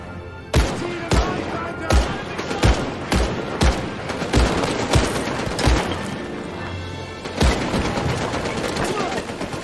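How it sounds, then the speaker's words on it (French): Rapid bursts of gunfire from the World War II shooter Medal of Honor: Above and Beyond, sharp close shots repeating in an uneven rhythm over steady background battle noise. "je tire en premier alors"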